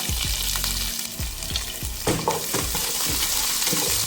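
Mustard seeds, cumin, green chillies and curry leaves spit and crackle in hot oil for an aloo curry, a dense close sizzle broken by repeated low knocks and scrapes of stirring, with no talking.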